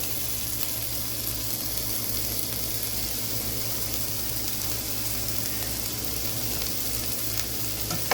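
Leftovers sizzling in a pan, a loud, dense and unbroken hiss that holds steady throughout with only a faint clink near the end and no voices.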